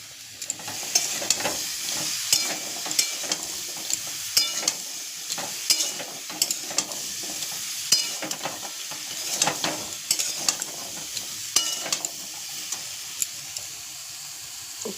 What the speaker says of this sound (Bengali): যতক্ষণ না আমড়াটা একটু নরম ভাব হবে, একটু হেলুনি মতন করতে হবে।